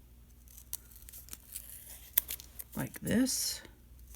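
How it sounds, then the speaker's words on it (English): Scissors snip a half circle through folded paper, giving a short run of crisp cuts and crinkles near the end, close and soft, while a person talks over them. "And then if you want circles, you're just going to cut a little half circle"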